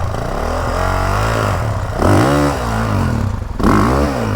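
A Honda CRF 450 R motocross bike converted for enduro revs up, its engine note rising and falling through a few loud, close throttle blips.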